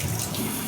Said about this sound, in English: I can just rinse off all my plants, and they sit on here, so they can drip dry much more easily